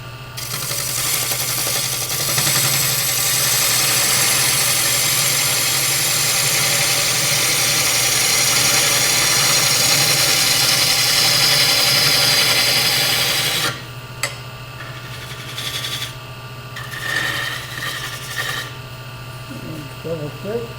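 Wood lathe turning a tenon on a piece of Norfolk Island pine, a steady close whirring hum with rasping tool contact that runs continuously, then drops off and gives way to quieter intermittent scraping and a voice talking.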